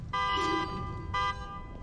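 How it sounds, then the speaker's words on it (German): Car horn honking in the horror video game The Evil Within 2, two loud blaring blasts with a pause between them, sounding alone. "Oh, wer hupt denn hier?"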